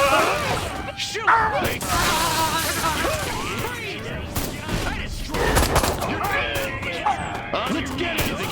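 Gunfire in the video game Destroy All Humans! crackles in dense bursts amid booms and crashes, loud and continuous, with voices shouting and talking over the action.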